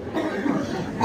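A cough from a speaker during a Minang religious lecture, one short rough burst over a room murmur.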